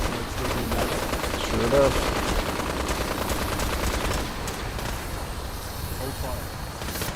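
The Kill It With Fire weapon fires steadily at a vertibird in Fallout 4, a dense, continuous roaring blast under a brief spoken remark, holding a level rumble throughout.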